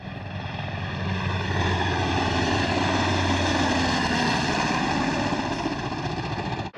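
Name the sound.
two Air Force Rescue Squadron H-60 helicopters arriving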